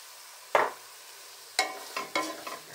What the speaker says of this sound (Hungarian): Ezt megint összekeverjük.